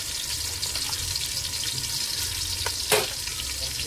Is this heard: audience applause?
no